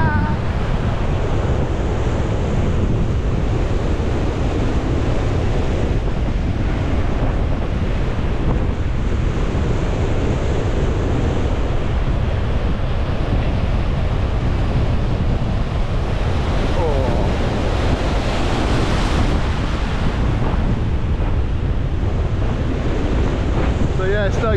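Strong gusts on a blustery day roar and buffet loudly across the microphone, a constant heavy rumble that swells and eases with no clear break.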